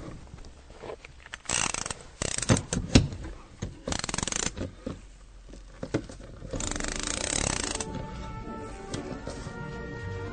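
Wire unwinding from an Equalizer Viper windshield removal tool makes irregular ratcheting, clicking and whirring bursts, fairly faint and close, with scraping handling noises between them.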